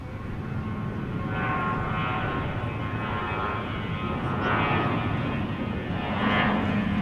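An American Airlines airliner flies past at DFW airport, a steady loud engine roar that swells and holds throughout.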